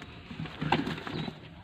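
A single pigeon gives a short soft coo at a Lahore pigeon sale, close and fairly quiet over low room noise, with no talk.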